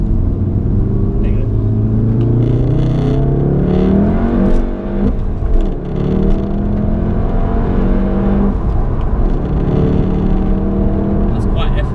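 A Volkswagen Golf GTI Clubsport S being driven, heard from inside as a steady, loud engine drone whose pitch climbs and settles with acceleration, with voices talking in the cabin.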